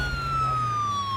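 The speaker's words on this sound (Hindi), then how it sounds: "एम्बुलेंस आ गई।" An ambulance siren sounds as one steady, high wailing tone that slides slowly downward over a low rumble of traffic. It is fairly close and loud, with no talk.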